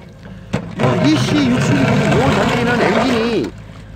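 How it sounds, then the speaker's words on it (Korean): A Volvo EC60E excavator's Kubota diesel engine runs steady and loud close by, with rising and falling whining tones over the rumble, starting abruptly and cutting off near the end. "구보다 엔진도 엔진 소리가 굉장히 좋습니다."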